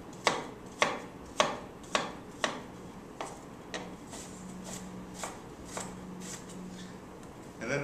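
Knife chopping through an onion on a cutting board: a run of sharp, evenly spaced cuts up close, then softer, sparser strokes with faint scraping.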